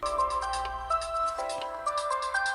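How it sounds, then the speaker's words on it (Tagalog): A cellphone rings from inside a pocket, its melodic ringtone slightly muffled but steady throughout, with no voices over it. "agriring ti cellphone ko iti bulsak"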